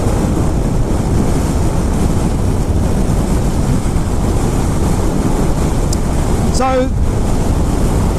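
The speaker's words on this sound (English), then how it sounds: "It's a bit windy today." Strong wind sweeps across open flat country and buffets the microphone with a loud, constant roar. A brief tonal squeal cuts through near the end, and one word is spoken.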